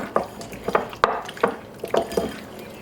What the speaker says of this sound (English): we're going to crack in an egg. I'm just going to mix that well.